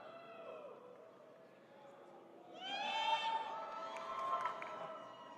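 A crowd in an esports arena at a Rainbow Six Siege major grand final swells into loud cheering and shouting partway through, under the voices of commentators talking.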